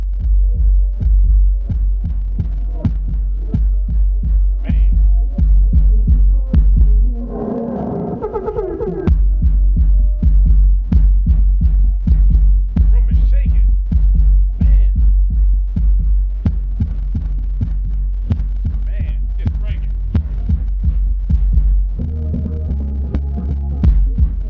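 Heavy bass music pounds through subwoofers powered by a Behringer iNUKE NU3000 amplifier, a loud, continuous throbbing low end with rhythmic beats and faint highs filtering through.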